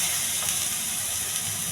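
Cumin, green chilli, curry leaves and onion sizzle loudly in hot oil, a dense, continuous close-up hiss that holds steady from start to finish.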